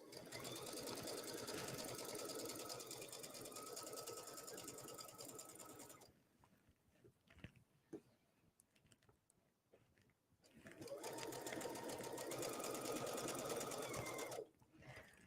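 A sewing machine stitches fabric for a halter tank in a steady, fast, rattling hum, pauses for several seconds of quiet handling, then runs again at the same pace, close and with no talking.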